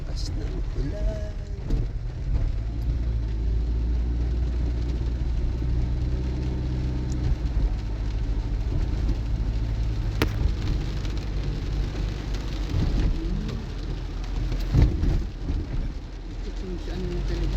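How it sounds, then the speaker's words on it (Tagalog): Heavy rain drums loudly and steadily on a car, with an engine whirring underneath. People talk inside the vehicle now and then over the downpour. "Lakas ng ulan."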